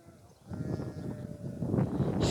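A flock of sheep with lambs bleats on a village farm during the Ramadan holiday, several overlapping calls close by, growing louder over the clip.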